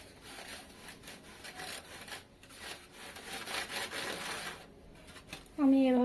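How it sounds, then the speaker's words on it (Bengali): Flour is sifted through a perforated sieve while a steamed rice cake is being prepared, giving a steady rhythmic rasping and shaking that swells and fades, followed by a brief tonal sound at the end. "এই চালনার মধ্যে দেব আর এভাবে করে চেলে নেব"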